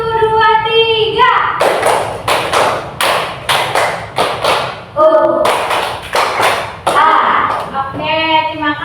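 Primary-school children clap out a tepuk semangat chant in a classroom, sharp rhythmic clusters of claps alternating with shouted counting and a teacher's voice, loud and close.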